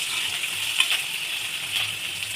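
Sliced green chillies sizzle in hot oil in a pan as they are stirred, a steady bright crackle with a few soft scrapes of the spoon, close and unbroken by talk.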